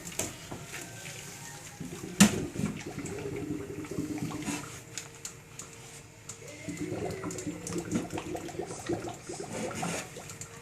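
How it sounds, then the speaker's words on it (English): Boiling water poured out of a pot of boiled plantains into a sink, a steady splashing, gurgling stream close by with a sharp clank near the start and a second surge later, no voices. "I'm going to empty out all the water"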